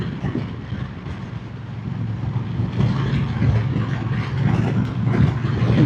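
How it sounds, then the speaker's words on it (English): A Kawasaki Vulcan motorcycle passes on a windy road, its low engine rumble rising steadily over constant wind buffeting the microphone, growing nearer and louder toward the end. "That was a Kawasaki Vulcan"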